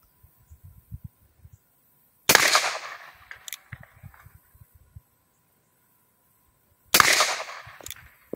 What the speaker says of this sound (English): We've shot two rounds off, so I'm going to try and bring it up some on the target.